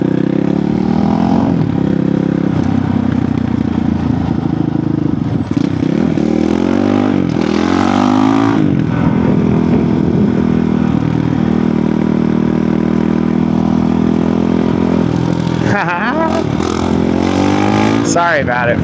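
A Yamaha MT-10 sport motorcycle riding around nearby, its engine droning steadily with rising and falling revs as it turns, while people talk over it throughout.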